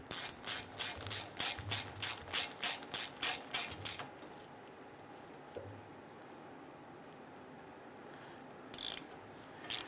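A ratchet tightens the rear brake hose fitting on a 2002-2008 Dodge Ram 1500, giving a quick series of about fourteen crisp, close clicks. The clicks then stop, leaving quiet workshop background with one brief clicking burst near the end.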